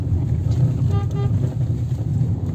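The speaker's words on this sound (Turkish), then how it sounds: "Korna çal" A short car horn toot sounds briefly over the steady low rumble of a running vehicle.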